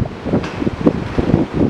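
Strong wind on a bridge along the Bright Angel Trail at the Grand Canyon buffets the microphone in a steady, rumbling roar with gusty surges and no voices.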